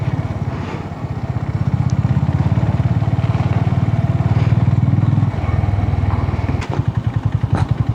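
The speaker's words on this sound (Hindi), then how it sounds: "और ये देखो अभी भी लोग आ रहे हैं बाइक रेंट पे लेके।" Motorbikes rented by tourists ride up on a mountain road after rain, their engines putting loudly and close with a steady throb, shifting pitch as they pass, and a sharp revving burst near the end.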